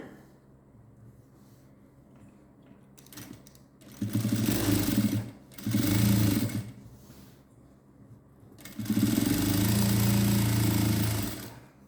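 Three separate runs of a sewing machine stitching the waist of a patiala pant, two short bursts followed by a longer one, each a loud, close, rattling whir with quieter pauses between.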